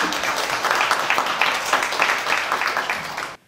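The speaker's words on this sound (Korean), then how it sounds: "여러분 따뜻한 박수로 정철 교수님을 맞이하겠습니다." An audience at a vinegar conference applauds to welcome a professor, a steady burst of clapping for about three seconds that cuts off abruptly.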